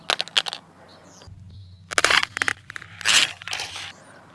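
A Samsung Galaxy S6 Edge phone dropped from waist height strikes the floor with a sharp clatter, followed by a few more quick impact bursts and rattles as it settles, close and loud with no talking.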